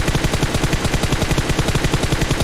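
Rapid automatic gunfire in the PUBG Mobile video game, a loud, steady burst of evenly spaced shots firing continuously at close range with no voices.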